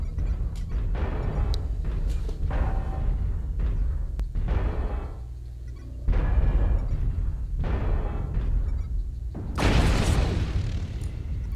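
Airstrike explosions in a video game battle: a string of deep booming blasts and rumbling impacts over constant loud battlefield noise, with a sharper, brighter burst near the end.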